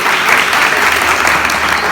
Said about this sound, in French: Nous demandons pour le public là, applaudir l'équipe.